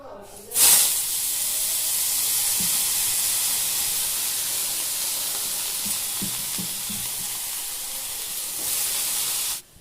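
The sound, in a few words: cabbage and potato frying in a kadai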